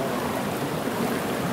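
Creek water flows steadily at a small gold-panning stream in the Philippines, a close, even rushing and gurgling with no speech.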